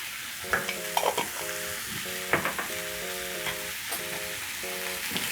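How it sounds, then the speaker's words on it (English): Cumin, garlic powder and black pepper stirred into liver frying in a pan, with a steady sizzle underneath and several distinct scraping stirs of the utensil, close and fairly quiet. "Stir in the spices."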